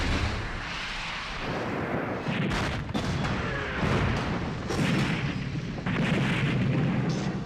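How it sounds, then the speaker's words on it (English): Military weapons and artillery firing, heavy booms and gunfire rolling over a dense, constant roar, with sharp bursts standing out near the middle and end and no voices. "Weapons ready. In range. Shoot."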